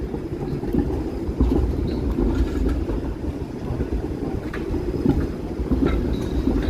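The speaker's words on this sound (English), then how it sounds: "Oh, the streetcar is running a red light." A Toronto streetcar passing along College Street, a loud low rumble with rattling wheel and rail noise that swells and stays close for several seconds amid street traffic.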